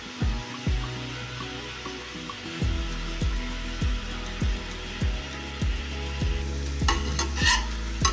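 A spoon repeatedly scrapes and stirs through a frying pan as ground masala powder is mixed into a spicy cauliflower side dish, rhythmic strokes about every half second over a soft sizzle, with brief clinks near the end.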